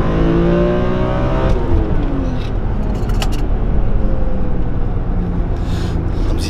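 A BMW E46 M3 convertible, a US import, revs hard with a rising then falling engine note over continuous loud roar, tires spinning amid the noise; no talk.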